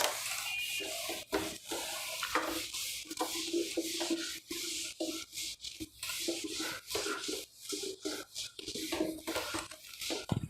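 Continuous close rubbing of a duster or eraser wiping writing off a classroom board, steady rhythmic scrubbing strokes with brief pauses, no talk.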